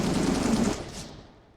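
Rapid automatic gunfire from the video game Counter-Strike rattles in a dense burst for under a second, then decays into a fading tail.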